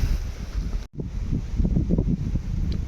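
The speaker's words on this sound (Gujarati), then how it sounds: "પવન આવ્યો પવન" Gusty wind buffets the microphone in a deep, rumbling roar that briefly drops out, then keeps blowing strongly over a wheat-winnowing field in Gujarat.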